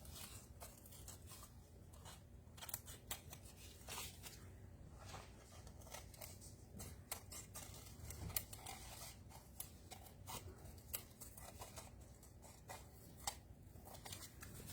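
Scissors snipping around the outside edge of a fabric bowl cozy, a quiet, steady run of small crisp cuts with soft rustling and no voices.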